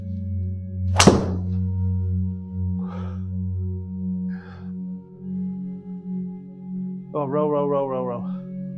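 A 3 wood strikes a golf ball off the fairway with a single sharp, loud crack, followed by soft swishes and a short voice as the ball flies away outdoors.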